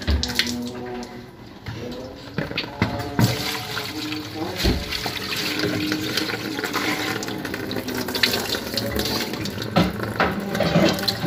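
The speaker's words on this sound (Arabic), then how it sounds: "المية اللي احنا كبيناها بدأت تنزل معايا من هنا اهيت" Water poured into a White Whale refrigerator that is not freezing drains down inside it with a continuous gurgling, rushing flow, and a voice talks over it.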